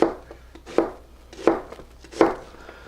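A knife chops onions on a board for French onion soup, landing four sharp, evenly spaced strikes close by with quiet gaps between them.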